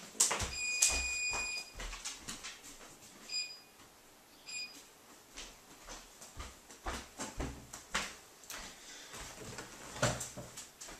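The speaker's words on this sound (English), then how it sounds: "timer's going off" A kitchen timer goes off with short high electronic beeps in the opening seconds and a few faint repeats later, among clattering kitchen knocks and bumps nearby.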